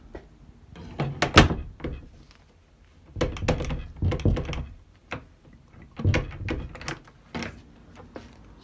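A front door with a nightlatch lock is pushed shut several times, giving a series of close, solid thunks and latch clicks separated by brief quiet gaps.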